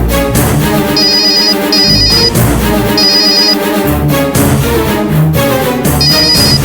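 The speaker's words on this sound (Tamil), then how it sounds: "ரிங் போயிட்டு இருக்குது, எடுக்க மாட்டேங்கிறாரே" A telephone ringtone repeats in short, bright electronic trills at regular intervals over loud background music, steady and prominent throughout.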